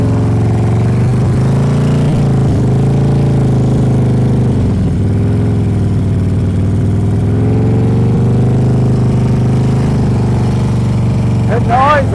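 A motorcycle engine runs steadily at low revs during slow riding with clutch control, loud and close with small throttle changes, while an instructor talks throughout.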